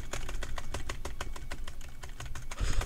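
Rapid clicking of keys on a computer keyboard during a Roblox game, a steady close run of crisp taps with no talking.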